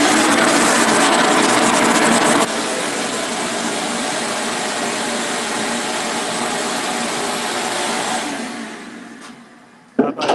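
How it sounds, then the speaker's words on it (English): A vacuum cleaner runs with a loud, steady roaring whine that shifts to a slightly lower pitch after a couple of seconds, then winds down and stops near the end, followed by a brief clatter. "now I'm going to turn the vacuum on again"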